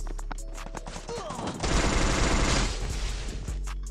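A loud, rapid burst of automatic gunfire rattles through a shooter video game for about a second, set among other scattered in-game sounds.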